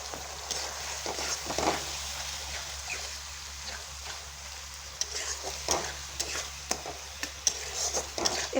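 Ground spices, salt, chili, cumin and coriander, get stirred in a frying pan. Quiet scraping strokes sound under a soft sizzle, the stirring picking up in short bursts toward the end.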